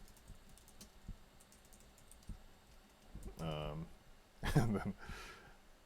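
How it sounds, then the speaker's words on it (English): Typing on a computer keyboard, a steady patter of soft key clicks that continues while a person talks nearby. "No, I'm not showing what I'm typing."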